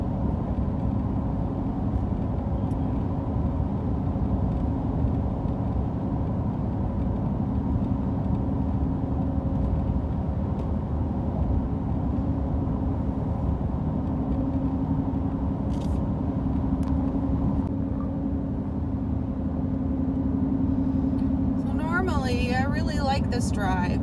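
A car rolls along a rural road past hay bale fields in haying season, its steady engine and tyre rumble continuous and close throughout, with a voice talking over it.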